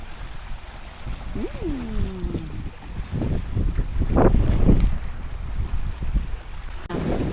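Steady wind buffets the microphone with low rumbling gusts, joined by splashing water and a brief voice-like wail.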